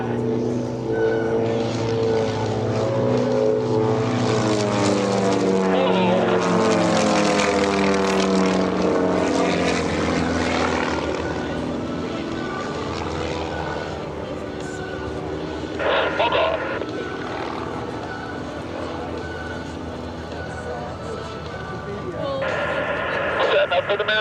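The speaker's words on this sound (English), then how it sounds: "as they dive back in, picking up airspeed, and again showcasing off the superior roll rate control and maneuverability of these RV-8s in this rolling pack" RV-8 aerobatic planes dive in a tight rolling formation at an EAA AirVenture airshow. Their loud propeller drone sweeps and shifts in pitch as they pass, with an announcer talking over it.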